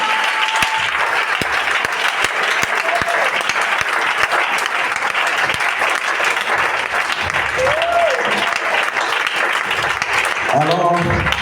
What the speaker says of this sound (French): Donnez une acclamation à Dieu